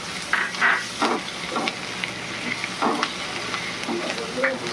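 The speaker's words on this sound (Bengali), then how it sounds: "এবার আদা রসুন পেঁয়াজ ডিম একটু ভালো করে ভেজে নিতে হবে।" Crushed ginger, garlic, onion and egg fry in a pan for egg pulao, with a steady sizzle broken by sharp scraping bursts as a spoon stirs the mix, close up and without speech.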